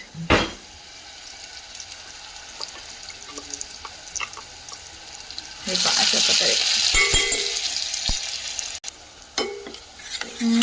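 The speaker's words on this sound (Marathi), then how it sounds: "अशा प्रकारे मसाला टाकून आता मी तो हलवून घेत आहे" Masala being stirred into fish curry in a pan makes intermittent scraping and clinks, with a short sharp knock at the start, then a louder wet bubbling and sizzling stretch in the second half, under faint background noise.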